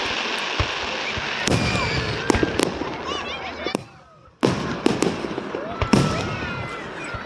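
Fourth of July fireworks with sparkling glitter effects, a run of sharp cracks and crackling bursts over a dense fizzing sparkle, with a brief lull before more pops resume, people's voices audible in the background.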